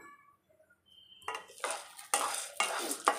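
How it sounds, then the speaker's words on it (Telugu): Chana dal frying in oil in a pan while being stirred, heard as a quiet start followed by several loud, close scraping strokes of a spoon against the pan. "ఇలా కలిపెడుతూ బాగా వేయించుకోవాలి ఆయిల్లో ఇలా బాగా వేయించుకోవడం వల్ల క్రిస్పీగా ఉంటుంది"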